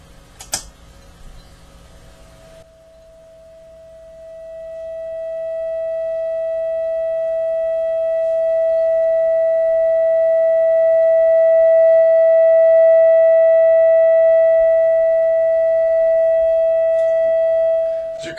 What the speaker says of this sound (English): the relatively pure sine wave produced by R.G. Keene's quick and dirty test oscillator